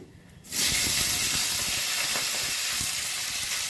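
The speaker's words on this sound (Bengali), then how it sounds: "পাঁচফোড়ন দিলাম, এবার আমি সবজিগুলো ছেড়ে দিচ্ছি" Vegetables for a Malabar spinach and pumpkin curry hit hot oil with five-spice seeds, setting off a sudden loud, close hiss that keeps sizzling strongly and evenly.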